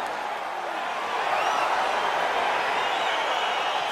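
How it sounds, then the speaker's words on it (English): Arena crowd in the UFC 4 fighting video game, a broad continuous murmur and cheer that builds slightly as the fight begins, with no talking. "crowd getting excited as this fight gets underway"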